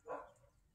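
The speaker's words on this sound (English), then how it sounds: "Hear your cousins barking in the distance?" Dogs barking in the distance in a garden, heard as a single brief, faint bark-like burst early on that quickly fades into quiet background.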